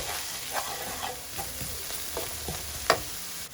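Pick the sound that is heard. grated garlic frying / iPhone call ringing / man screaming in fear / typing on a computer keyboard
grated garlic frying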